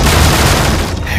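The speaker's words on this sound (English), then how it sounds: "he raised the machete into the air and pounded it against the door" A loud, heavy thud of a machete pounding against a wooden door bursts out at once, a booming impact that fills the whole moment and then slowly fades.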